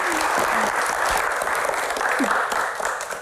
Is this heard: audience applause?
yes